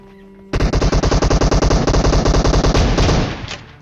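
Rapid automatic gunfire in a battle-royale video game rips through a long, evenly spaced burst of loud shots that peppers a car, then trails off into an echoing tail.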